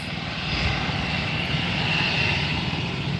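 A United Airlines Boeing 737 MAX 9 jet at Fort Lauderdale gives a steady, fairly loud engine roar that swells slightly after the start and then holds even.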